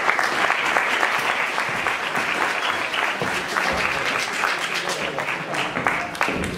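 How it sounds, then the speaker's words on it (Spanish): A lecture audience at a film-history talk gives a loud, dense round of applause that holds steady and close throughout, with no voices over it. "un fuerte aplauso a Ramón"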